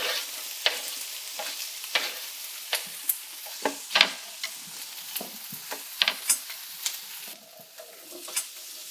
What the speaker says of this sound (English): Now we're going to put the aromatics into the frying pan at medium-high.